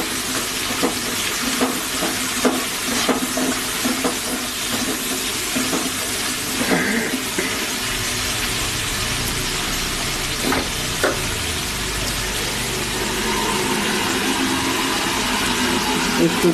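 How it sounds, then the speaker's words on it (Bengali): Spiced paste for a green bean and potato dish sizzles steadily in a pan with a splash of water, with stirring scrapes and clatters throughout, close and continuous. "একটু একটু জল দিয়ে আমি মশলাটা সাঁতলিয়ে নিচ্ছি।"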